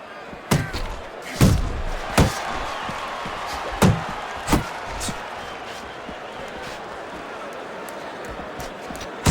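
Heavy boxing punches land in Fight Night Champion, a simulated bout between Tyson Fury and Rocky Balboa: a string of sharp, loud thuds spaced irregularly in the first half, then quieter crowd-like ambience.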